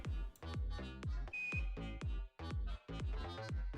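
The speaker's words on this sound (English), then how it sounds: "we hear that beeping sound. That is because of this screen right here. It's gonna beep until we get connected." A screen in the Air Hauler 2 career add-on for Microsoft Flight Simulator beeps repeatedly in a steady rhythm, roughly twice a second, with the electronic tones clear and unaccompanied.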